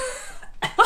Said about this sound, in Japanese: いや、咳だよ、もう。